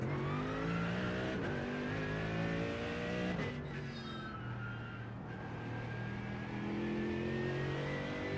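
A GT3 race car engine in iRacing revs steadily throughout, rising and falling through gear changes with a continuous loud, close exhaust note.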